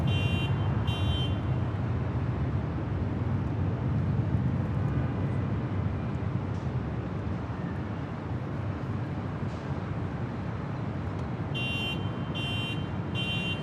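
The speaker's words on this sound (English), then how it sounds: "The next departure is Delta Airlines, Flight 1865, headed out to Puerto Vallarta on a 737-800." A Delta Airlines Boeing 737-800 departs Los Angeles International Airport on a flight to Puerto Vallarta, producing a continuous broad jet roar at steady strength throughout. Short electronic beeps sound near the start and again near the end, and there is no talking.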